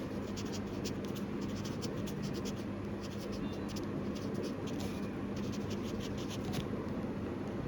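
Pen writing on paper as a geography practical map is labelled, a close, faint, continuous scratching with small rhythmic strokes and no talking.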